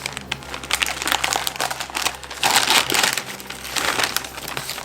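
Wrapping paper crinkling and tearing as a gift is unwrapped, a loud, continuous rustle close by with no talking.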